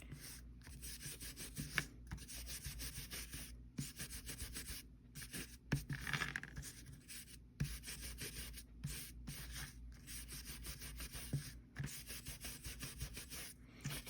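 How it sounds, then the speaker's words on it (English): Walnut stain is rubbed onto paper for a junk journal in repeated short, dry scrubbing strokes, close and quiet, with brief pauses between bursts. "I'm running just a little bit of the walnut stain."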